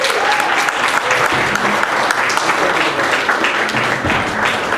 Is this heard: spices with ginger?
no